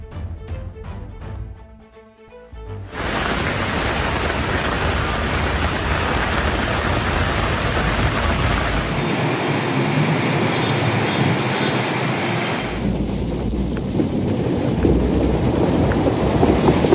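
Heavy rain pours steadily across Delhi, a dense, loud, continuous wash that swells after a brief dip near the start and stays broadband and unbroken to the end, with no voices heard.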